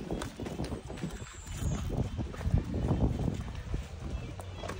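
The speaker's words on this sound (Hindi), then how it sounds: "ये देखिए हमारे सलमान भाई खच्चर पे जा रहे हैं" Mule hooves clip-clop along a dangerous mountain road on the way to Fairy Meadows, with steady close steps over continuous engine and wind noise.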